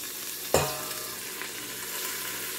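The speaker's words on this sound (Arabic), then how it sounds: "After frying the meat and the dill for like 1 to 2 minutes, we will add the spinach." Meat and dill frying in a pot for an Iraqi spinach soup, a steady broadband sizzle with one sharp clank near the start, close and moderately loud, no voices.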